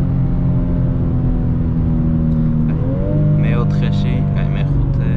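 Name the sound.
BMW M2 accelerating on the German autobahn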